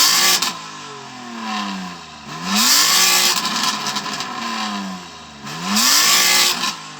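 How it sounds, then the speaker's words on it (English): A 1000-horsepower BMW M3 Touring with an aftermarket exhaust revs hard three times, each throttle blip swelling loud then easing back, with a rough exhaust rumble throughout. "So I'm going to rev up my M3, which I know is going to sound amazing because of the exhaust on it."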